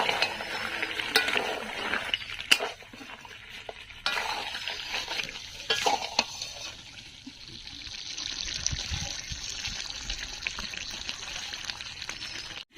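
Country chicken curry simmers on a low flame in a pan, giving a steady soft sizzle and bubbling, broken by occasional scrapes and clinks of a stirring spoon over nearly thirteen seconds, with no talking.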